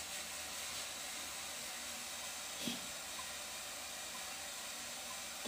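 An electric water heater boils water and gives off steam, making a continuous broadband hiss and rumble at a constant level, with a faint knock or bubble partway through and no voices.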